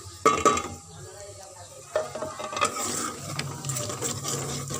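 Masala frying in a pan with salt, chili and turmeric added, a continuous sizzle with scraping stir strokes and a few clanks, close up.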